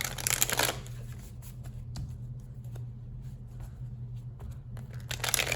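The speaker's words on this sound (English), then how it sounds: "let's pull a few tarot cards" Tarot cards being shuffled by hand, a crisp riffle at the start and another at the end with soft card handling and light taps in between, close and fairly quiet with no talking.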